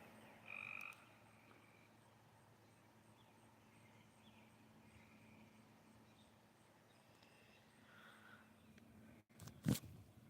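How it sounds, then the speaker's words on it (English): A tree frog croaks faintly from a bush outdoors after a storm, an occasional brief call over a steady wash of background noise, with a louder clatter near the end. "I know I heard a fucking tree frog over here."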